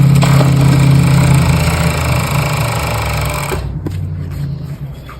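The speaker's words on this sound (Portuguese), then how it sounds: "a gente vai passar o overlock aqui" An overlock serger stitches the finishing edge on jeans fabric, running as a loud steady mechanical whir for several seconds before slowing and stopping near the end.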